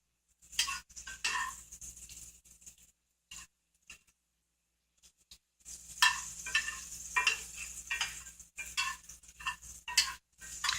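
Pork sausage and ground beef burger ingredients sizzle and crackle in a pan in a culinary classroom, with intermittent clinks and stirring sounds. The sound breaks off briefly, then returns louder and busier.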